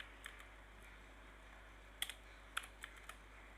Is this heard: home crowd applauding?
no